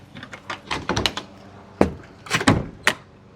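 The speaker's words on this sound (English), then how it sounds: "Nice heavy doors." Heavy doors on a storage shed open and close, producing a series of close, loud knocks, scrapes and rattling thuds in irregular bursts.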